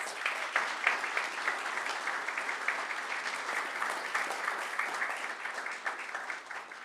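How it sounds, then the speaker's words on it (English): Steady applause from a crowd at an AUHSD school board meeting, dense clapping holding at an even level throughout before easing slightly at the end. "Let's give him a round of applause"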